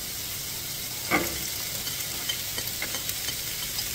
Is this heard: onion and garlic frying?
yes